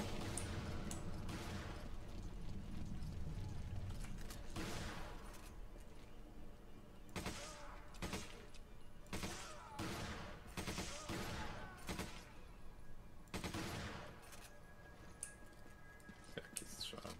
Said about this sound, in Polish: Dziwnie się strzela z tej MP5.